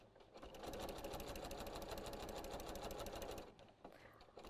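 A sewing machine fitted with a walking foot stitches through thick, bulky rag-quilt layers in a rapid, even, close-up chatter that runs for several seconds before slowing briefly. No voices.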